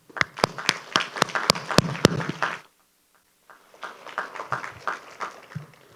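Applause from a crowd at an outdoor groundbreaking ceremony for a high school science center, dense clapping for about two and a half seconds, a short pause, then a second, softer round.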